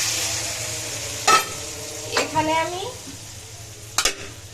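Small fish frying in cumin-spiced oil with a soft steady sizzle, broken by a few sharp scrapes of stirring; a voice speaks briefly.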